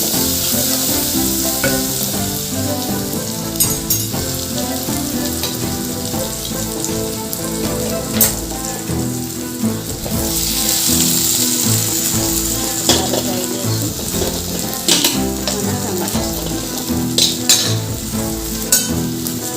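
Okra and tomato frying in oil in a pan, a loud, dense sizzle with occasional stirring scrapes and crackles, continuing without a break and no talk.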